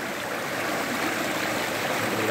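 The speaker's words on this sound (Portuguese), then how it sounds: "Aguinha descendo. Um pouquinho d'água. Uma correnteza maiorzinha." Water rushes steadily down a small waterfall stream, a continuous close broadband splash and trickle with no pauses.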